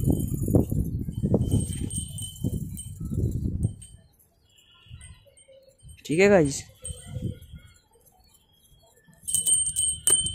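A pet pigeon in a home flaps its wings in a short, close burst around the middle, with a person talking before and after and a chirpy call rising briefly.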